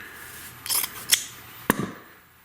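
Scissors cutting cloth for char cloth: a few separate close snips and crisp cuts, with a short rustle of fabric between them, in a quiet room.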